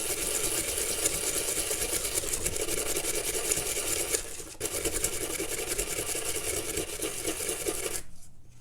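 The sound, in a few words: brushing a Leatherman multitool in mineral spirits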